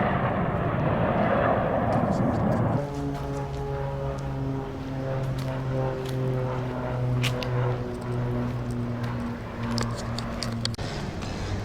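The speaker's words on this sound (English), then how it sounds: "Don't know what kind of planes they are." Planes fly overhead in Serbia, giving a steady, low propeller drone that sets in a few seconds in and holds at moderate distance for several seconds before cutting off.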